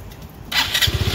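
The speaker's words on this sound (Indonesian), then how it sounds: "Ini ya mesinnya ya, suaranya halus sekali ya" A 2016 motorcycle engine in Taiwan starts up and settles into a smooth, steady idle, heard close and loud with a low rhythmic putter and no other sounds.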